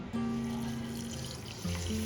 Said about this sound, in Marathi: आता यामध्ये आपण साखर ॲड करून घेऊया इथे एक कप साखर आहे त्यामुळं याला अर्धा कप पाणी ॲड करून घ्यायचं